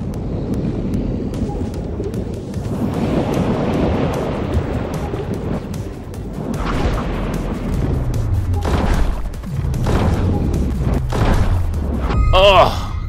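Sniper rifle fire in Dave the Diver: several heavy booming shots land in the second half over a dense, surging underwater rumble, with a short burst of chiming effects at the end.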